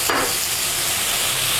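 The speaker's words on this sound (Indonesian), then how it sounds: "Kita tumis lagi sampai tomatnya benar-benar matang" Chopped tomatoes sauté with cooked spice paste in a pan for balado tongkol, a steady close sizzle and hiss with a quick stir at the start.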